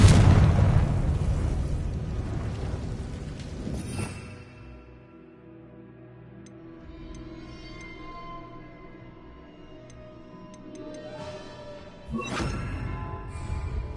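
A loud Confringo fire-spell explosion in Hogwarts Legacy bursts at the start and fades over a few seconds, followed by quieter game ambience and a second sharp blast near the end.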